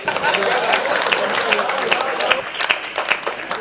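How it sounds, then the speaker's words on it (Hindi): Audience clapping at a Hindi kavi sammelan poetry gathering, a dense, steady wash of many hands applauding with distinct sharper claps throughout, loud and continuous, with a voice speaking over it. "तालियां बजाते रहो साहब।"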